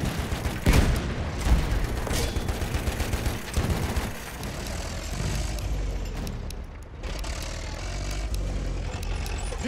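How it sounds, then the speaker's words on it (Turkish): Enemy machine gun fire in Battlefield 1 on a desert map, dense rapid bursts of automatic shots mixed with heavy battle noise and a rumbling engine throughout, loud and close. "Düşman makinalı tüfeği."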